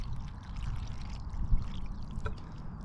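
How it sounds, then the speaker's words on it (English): Water pours into the inner pot of a self-heating hot pot outdoors, a continuous low gurgling pour with a steady background rumble and a brief splash partway through. "I believe I'm supposed to put in this internal pot for now water up to the max fill line."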